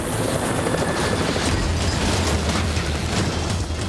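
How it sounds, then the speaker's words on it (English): A Black Hawk helicopter clipping a compound wall and crash landing, a loud dense roar of rotor wash and grinding impact noise that fills the whole moment, no voices. "One of the helicopters hits a sudden draft, causing it to hit the compound wall and crash land."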